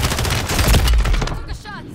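Dense Call of Duty ranked-match gunfire, rapid bursts and a sustained fusillade blasting loud and close for over a second, then thinning out under faint background game noise.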